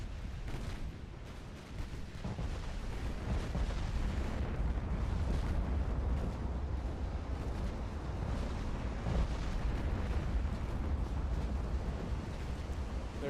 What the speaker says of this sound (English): Secondaries are starting to open up on the cruisers, or the destroyers, or whatever they are.